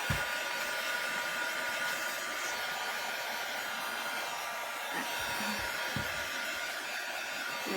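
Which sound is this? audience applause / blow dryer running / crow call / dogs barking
blow dryer running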